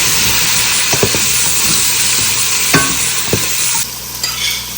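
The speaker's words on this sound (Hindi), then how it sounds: "अब इसमें ऐड कर लेंगे टमाटर। इस टमाटर को थोड़ा सा भूनेंगे।" Chopped tomatoes fry in a hot pan for dal makhani, a loud, close, continuous sizzle with a few spoon scrapes and stirring knocks, easing slightly toward the end, with no talking.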